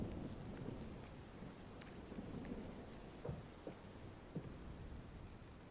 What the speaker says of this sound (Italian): Non smetterà neanche di piovere